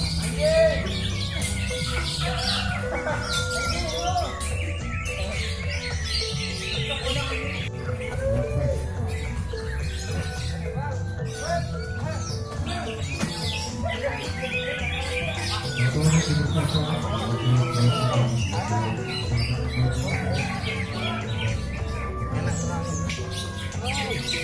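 Songbirds chirp and trill continuously at a gantangan songbird contest in Depok, a dense chorus of overlapping calls at steady loudness with crowd chatter and voices underneath throughout.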